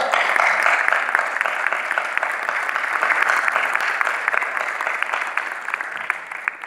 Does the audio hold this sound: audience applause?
yes